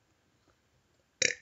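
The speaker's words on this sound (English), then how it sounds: "That burp right there." A single loud burp erupts near the end after a quiet stretch, short and throaty with a rough rasp that trails off.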